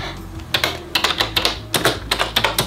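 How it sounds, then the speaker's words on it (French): Someone types on a wireless keyboard connected to a tablet, producing crisp, close keystroke clicks in quick irregular bursts with short pauses between words. "Une fois que vous avez connecté votre clavier à votre tablette, vous pouvez commencer à écrire."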